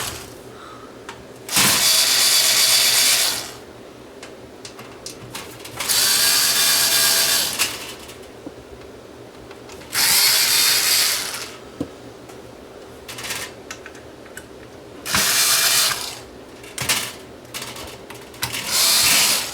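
A power screwdriver removing screws from a Sony STR-AV450 receiver whirs loudly in five short bursts of one to two seconds, separated by quieter gaps filled with small clicks and handling noises.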